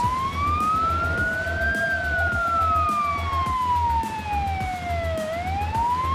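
An ambulance siren in the video game BeamNG.drive wails, sliding slowly up and down in pitch, loud and continuous over a low, pulsing engine drone.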